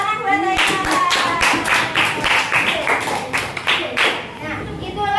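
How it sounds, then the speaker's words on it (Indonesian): A classroom of children clap their hands for a classmate named Aika, a quick burst of clapping over a few seconds with a teacher's voice and children talking around it. "Oke, tepuk tangan buat Aika."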